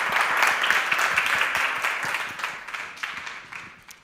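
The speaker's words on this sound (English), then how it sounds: "Let's give a round of applause." A conference audience applauds at the end of a talk, with many hands clapping in a loud, fairly close burst whose separate claps remain distinct before gradually tapering off toward the end.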